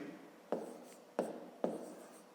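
Numbers are written by hand on paper during a fifth-grade math exercise, heard as three quiet, distinct pen strokes with soft scratchy taps spaced about half a second apart, close to the microphone.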